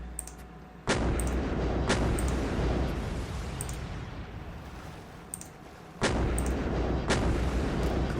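Naval cannon fire shelling an enemy shipyard in a strategy video game: loud booming salvos in paired bursts, with rumbling decay filling the gaps between shots.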